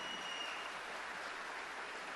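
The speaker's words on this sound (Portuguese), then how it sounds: "uma grande salva de palmas para essa maravilhosa obra" Applause from a gathered audience for the Lumen project, heard as a faint, steady wash of clapping with no voices.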